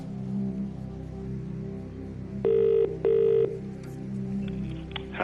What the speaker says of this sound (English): we'll phone Brian.